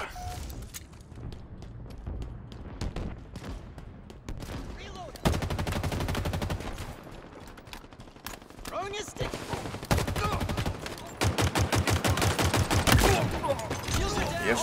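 Rapid turret gunfire in Halo Infinite, dense sustained bursts of automatic fire with brief pauses and booming impacts, loud and continuous over a busy game battle, with a player's voice talking intermittently.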